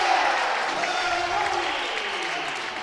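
At a high school boys basketball game, a gym crowd cheers and applauds after a basket, a broad roar that stays loud and then slowly tapers off.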